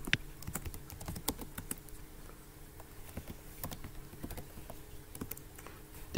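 Keystrokes on a computer keyboard entering a group code for a chat app, a quiet, irregular run of crisp clicks with short pauses, close and alone with no talk.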